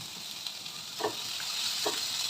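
Onion, chopped vegetables and tomato frying in a pan give a steady, close sizzle throughout, with two brief louder bursts as more ingredients drop in or get stirred.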